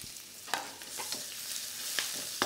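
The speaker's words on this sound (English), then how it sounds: "Once that's smoking hot, your spring onion and your garlic can go straight in." Spring onion and garlic sizzle hard in a smoking-hot wok, a bright hiss broken by several sharp clacks and scrapes of stirring.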